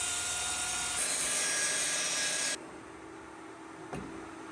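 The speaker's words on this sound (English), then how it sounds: "Sorry about the vacuum, dust collection and all." A workshop dust-collection vacuum roars steadily alongside a saw cutting wood for hexagonal shelf pieces, a loud broadband whine that suddenly drops to a quieter hum halfway through, followed by a brief knock.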